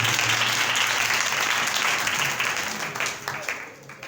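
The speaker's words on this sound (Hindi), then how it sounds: "जोरदार तालियां खुदा के लिए।" Loud, sustained clapping from a church congregation during a Bible sermon, dense at first and then thinning into scattered claps as it fades out.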